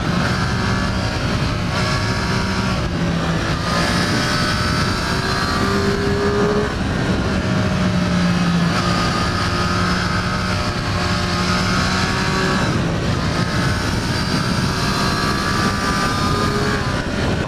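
A Triumph Street Triple 765 RS naked motorcycle engine drones loud and close, with a steady, rich tone whose pitch rises and falls slightly for the whole stretch, and no voices over it.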